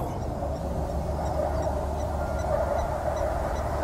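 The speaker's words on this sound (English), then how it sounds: "Guinea fowl." Guinea fowl call from nearby in the wild: honking, raspy cries that repeat and overlap against a steady outdoor rumble, with no voices.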